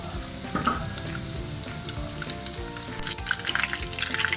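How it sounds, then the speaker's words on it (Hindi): Chicken sticks frying in oil over a low flame give off a continuous, close, crackling sizzle with small bubbling pops, and no talking. "बस ये 4 स्टिक पहले फ्राई कर लेंगे।"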